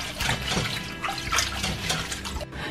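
Blanched hijiki seaweed rinsed in cold water, with steady running and splashing water in a sink, close and continuous for a few seconds.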